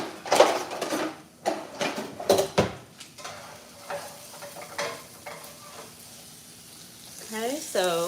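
Softened onion and green peppers stirred into browning ground beef in a pan, with sizzling and scraping utensil strokes in short bursts and quieter frying in between, close by.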